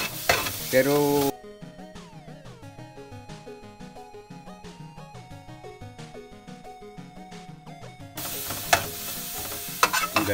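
Vegetables for pinakbet sauté in a hot pan, a soft continuous sizzle with stirring scrapes, a louder burst of frying at the start and end, while someone speaks briefly.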